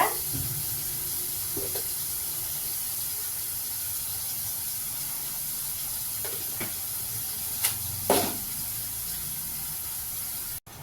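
Chopped tomatoes with a little rock salt sauté in a pan for a pirandai kuzhambu, producing a steady, even hiss of steam and sizzle broken by a few short spoon scrapes.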